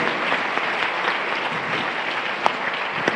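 Sustained applause from a conference audience welcoming a philosopher onto the stage, a dense steady clatter of many clapping hands with no voices over it.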